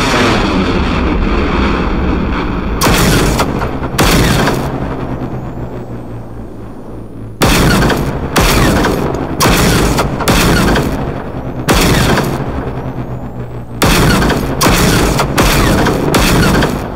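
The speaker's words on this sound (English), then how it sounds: "That is a big blast." Large explosion blasts in the video game Generation Zero during a fight with a Reaper robot: a loud, continuous roar broken by repeated sharp bursts, close and dominant throughout.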